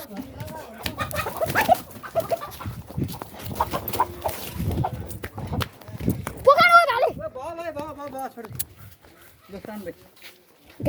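A rooster about to be cooked gives a few crowing calls partway through, heard amid ongoing talking and background commotion.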